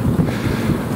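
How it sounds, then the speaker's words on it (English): Brief gusty wind buffeting the microphone at Sloan's Lake in Denver, a loud low rumble with no voices. "it's a cool windy day here in a Mile High"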